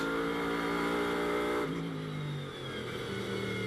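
Blancpain GT World Challenge America race car at Las Vegas Motor Speedway, heard on board as a loud, steady engine drone with strong harmonics that shifts pitch partway through as the driver picks up the throttle through a corner sequence.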